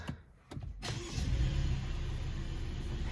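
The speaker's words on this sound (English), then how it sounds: "I'm gonna get the car started." A 2014 Mercedes C-Class W205 starts up with a brief crank, then the engine settles into a steady, close idle hum in the cabin with no talk.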